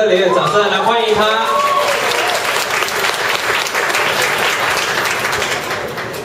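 An audience breaks into warm applause to welcome a young singer. A voice speaks over the opening moments, then the dense clapping continues alone and slowly fades.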